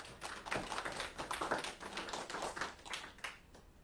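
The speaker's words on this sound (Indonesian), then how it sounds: "Kita tepuk tangan untuk Tuhan kita." A church congregation claps hands during a Sunday service, a soft, fairly distant patter of many hands in loose rhythmic bursts, with no voices over it.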